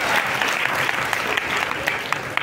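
Audience members at a Gita Jayanti discourse at ISKCON Mayapur clap together in a dense, steady burst of applause. The clapping is close and fairly loud, with a few sharper individual claps standing out.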